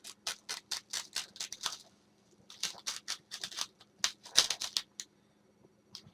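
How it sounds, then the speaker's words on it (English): Cling film crackles and snaps in quick bursts as it is pulled around a package for shipping prep, then cut off, close and crisp with short pauses between pulls. "Just going to bring that cling film around."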